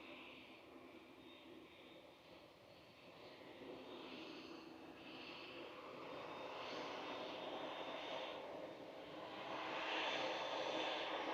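A TUI Boeing 787-9 departs Manchester Airport, its engine roar steady and broad at a distance, slowly swelling louder toward the end with no speech over it.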